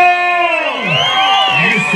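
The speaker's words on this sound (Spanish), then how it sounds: "¡El aplauso!" Crowd at a jaripeo in Guadalupe Victoria, Guerrero, breaks into loud cheering and whoops, rising voices swelling close together over the whole moment with a bright, sustained clamor.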